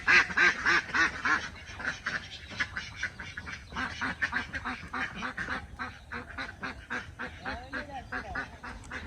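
A flock of Chinese ducklings on a rooftop calls constantly at feeding time in the morning, with overlapping nasal quacks and peeps in a busy chorus close by, without letup.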